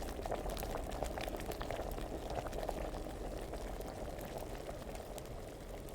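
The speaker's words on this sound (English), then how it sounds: "you can hear the boiling noise" Continuous bubbling and boiling of a potion cauldron in the video game Kingdom Come: Deliverance, a dense steady gurgle with tiny pops, unchanging in loudness throughout, no voices.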